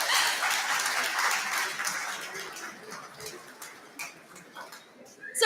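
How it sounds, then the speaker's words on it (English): Audience applause for the reset crew at a spring home-education concert, a broad patter of clapping that is strongest at the start and thins out, with some voices in the room. "I think we need to give a quick round of applause to our reset crew"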